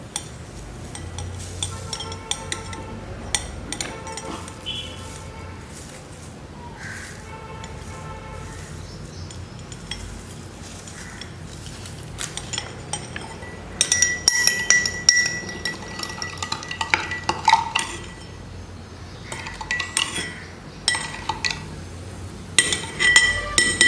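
A spoon stirs baking soda and water in a glass, giving quick clinks and scraping chinks against the sides. The sound is quiet and scattered at first, then grows into louder, busier bursts of clinking, close by with no talking.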